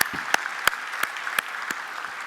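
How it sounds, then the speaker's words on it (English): An audience at an energy summit applauding, a thin round of clapping with a few sharp individual claps standing out in an irregular rhythm, moderately close and fading slightly, no speech. "let's give everyone a little appreciation with a round of applause"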